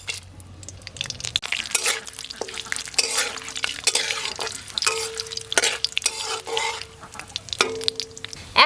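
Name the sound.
bay leaves and garam masala frying in ghee in a wok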